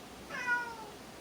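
A pet cat lets out a single short meow, quiet and close, rising and falling within about a second against a hushed room.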